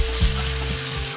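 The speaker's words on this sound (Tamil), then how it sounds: "இப்போ இதில் ஒரு கொத்து கருவேப்பிலை போட்டுக்கலாம்." Curry leaves dropped into hot oil with mustard seeds for a rasam tempering, giving a short, loud burst of sizzling and crackling frying close by, no voices.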